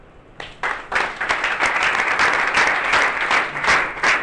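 Audience applause at a training session, a crowd of many hands clapping steadily and fairly loudly throughout with no talk over it.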